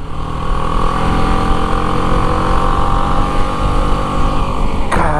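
A BMW G310 GS motorcycle engine drones loud and steady while riding, a continuous close engine hum with slight variation and a brief burst of wind or handling noise near the end.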